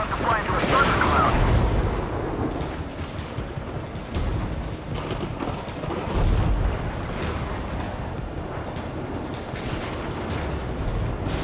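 Deep, rolling thunder rumbles from a thundercloud in Ace Combat 7, a sustained low roar with swelling surges and sharp crackles, blended with wind-like rush and faint radio chatter underneath.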